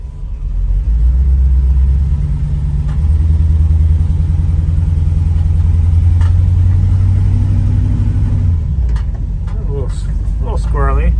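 A 1981 Chevrolet C10 pickup truck drives along with a loud, steady low engine rumble that holds for most of the ride, then eases off near the end as sharper clicks and rattles break through.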